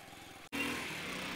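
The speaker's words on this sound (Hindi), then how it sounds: "बहुत दम तोड़ती हुई चल रही है बाइक।" A Hero Splendor Pro motorcycle engine runs unevenly and sounds strained, a steady close mechanical drone cut by one sharp dropout before it resumes.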